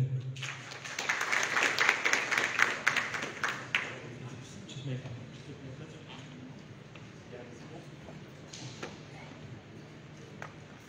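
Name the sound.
audience applause at the Palais du Peuple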